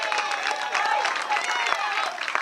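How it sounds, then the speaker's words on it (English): Crowd at a Little League baseball championship awards ceremony applauding the outstanding pitcher, a steady wash of clapping with some cheering running throughout. "Let's have a big round of applause for our outstanding pitcher today"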